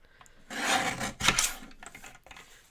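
Card stock being trimmed to size at a craft table, a rasping, rubbing cut that swells for about a second, then a second brief stroke and a few light taps, close and fairly quiet with no talking.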